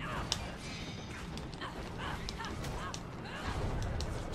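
In the Legend of Korra video game, birds honk repeatedly in quick, goose-like calls over busy game effects and a steady rumbling background.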